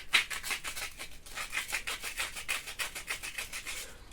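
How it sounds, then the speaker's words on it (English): Rapid rhythmic strokes sand a 3D-printed blast gate part for a blind-tilt controller, a faint dry rasping back and forth with no one talking. "It does need a little bit of sanding"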